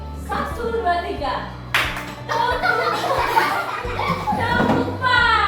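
Children in a classroom clap hands in a rhythmic chant game, sharp clap bursts punctuating their loud sung and spoken voices, close and lively.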